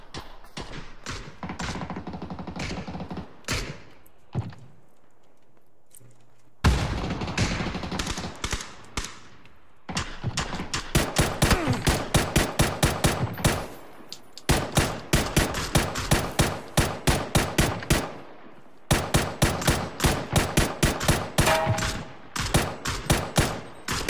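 Video game gunfire rattles out in rapid automatic bursts and single loud shots, with brief pauses between volleys and a few dull thumps.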